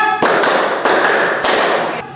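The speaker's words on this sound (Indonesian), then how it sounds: "kita tepuk 1, 2, 3, 4, 5" Sixth-grade class performing a rhythmic group clap routine, several loud synchronized bursts of many hands in quick succession, close and dense, with a short voice at the start and end.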